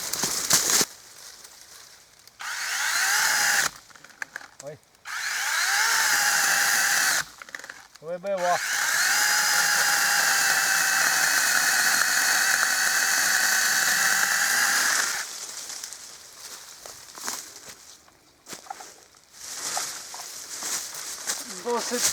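A PROCRAFT PKA 44 mini saw cuts through a 55 mm piece, spinning up into a loud, sustained high whine that holds for about ten seconds before winding down, with brief bursts of motor noise and talking before and after.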